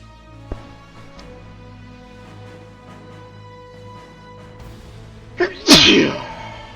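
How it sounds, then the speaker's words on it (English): A single loud sneeze from the video game Super Robot Wars Y bursts out near the end after a short inhaling build-up, following a mostly quiet stretch with a faint musical hum and an early click. "hopefully I managed to get in time to stop that sneeze from happening"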